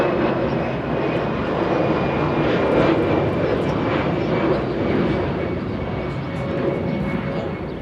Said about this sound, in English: American 739 heading to Vegas, the departure that we just saw.